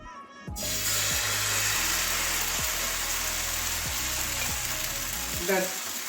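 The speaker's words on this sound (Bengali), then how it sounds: "এবারে ব্যাটারটা ফেলে দেবো ব্যাটারটা গরম হয়ে গেছে" Cauliflower paratha batter hits a hot pan and bursts into a loud, continuous sizzle that holds steady for several seconds close by, with a brief scrape near the end.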